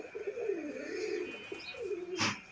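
Cooing of a sky-blue Rajgolla pigeon, close and clear, with soft repeated rolling coos and a brief brighter burst near the end, no talk.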